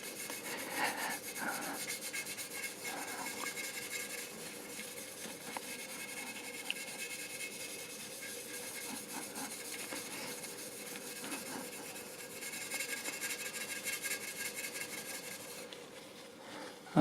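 Steel wool rubbed over polish cream on the metal of a 1975 Peugeot gives a soft, continuous scrubbing rasp that holds steady at low volume through the whole stretch.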